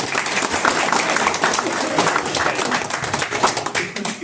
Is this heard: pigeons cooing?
no